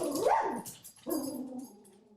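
Dogs barking and yipping nearby in two short, lively bursts, the first louder with a rising yelp, fading off toward the end.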